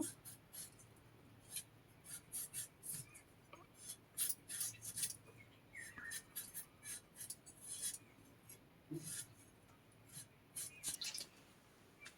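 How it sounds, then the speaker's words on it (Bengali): Potatoes being cut with a knife while preparing a simple fish curry with pointed gourd and potato: repeated short crisp chopping and scraping strokes in an irregular rhythm, close and fairly quiet, with no talking. "এবারে আলুগুলো কেটে নেব"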